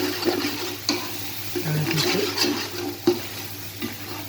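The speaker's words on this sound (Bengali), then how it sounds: "এখানে আমি এগুলো দিয়ে একটু নেড়ে দিব" Spices stirred in a hot pan for Kashmiri chicken pulao, with a steady low sizzle and scraping strokes, a few sharper knocks of the spoon against the pan, and no voices.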